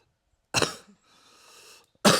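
A single person's harsh cough breaks the silence, followed by a softer breathy exhale or throat rasp, then another sharp cough; close and fairly loud, with no speech.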